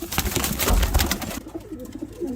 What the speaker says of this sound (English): Oh, there's so many pigeons in here